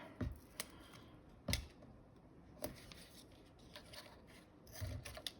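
Scissors snipping through very sticky, strong tape, four or five distinct crisp cuts spaced about a second apart, close and quiet with a faint rubbing texture between them.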